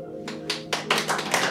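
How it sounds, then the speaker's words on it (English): A small audience claps at a talk marking fifteen years of the Maydays, with scattered hand claps that grow denser over a low steady tone. "Oh, a round of applause"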